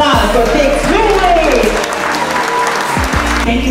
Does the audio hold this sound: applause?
yes